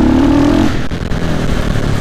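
A KTM motorcycle engine revs hard from low idle with the throttle opened wide, a rising roar with mechanical clatter, close and loud throughout.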